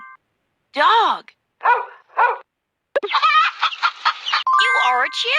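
A cartoon dog barks in a children's animal-sounds quiz, a few short yelping calls between a spoken word and bright chime-like game sounds.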